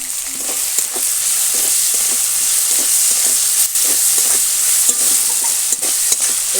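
Tomato masala sautéing in a pan with salt added, a steady bright sizzle under regular scraping stirs of a spatula, close and fairly loud with no talking.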